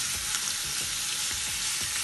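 Kofta sizzles steadily in a pan as a continuous, fairly quiet frying hiss with small crackles and pops, no voices over it.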